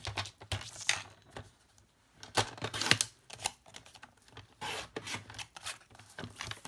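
Cardstock being trimmed down for a handmade card, heard as a quiet, irregular series of close scraping, rasping and tapping sounds from paper and a trimmer, with no voices.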